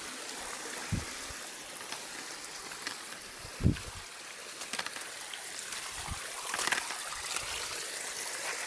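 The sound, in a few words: river stream flowing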